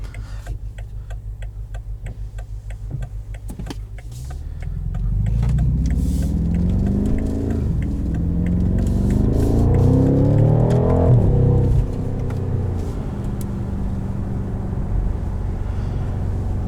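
A 2019 BMW M550xi with all-wheel drive accelerates hard, its engine note rising from a ticking idle into a loud, climbing roar that shifts and peaks before settling back to a steady cruise hum.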